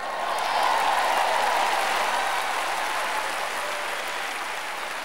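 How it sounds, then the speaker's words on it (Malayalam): Audience applause during a Christian sermon, a steady wash of many hands clapping for several seconds that slowly fades slightly, with no talking. "നിങ്ങൾ കൈയടിക്കണം, കാരണം നിങ്ങളുടെ പ്രതികരണത്തെക്കാൾ കൂടുതൽ ഞാൻ പ്രസംഗിക്കുന്നു"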